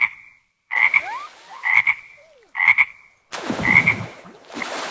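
Frogs by a pond give repeated loud, close croaks in short bursts with brief silences between them, the last burst rougher and mixed with splashy noise. No one speaks.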